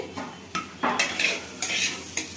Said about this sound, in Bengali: তো এখন আমি ঢাকনাটা খুলে দিচ্ছি